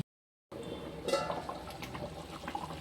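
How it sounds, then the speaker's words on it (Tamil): Prawn curry simmers in a pot on the stove, giving a soft, continuous bubbling after a brief silence, faint and close with no talking. "குழம்பு நல்லா காய்ச்சி வருது"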